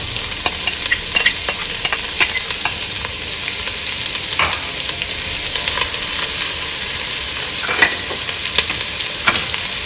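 Mustard, garlic and onion sizzle loudly in a curry pan, a close, constant frying hiss broken by scraping stirs and small crackling pops, with no one talking.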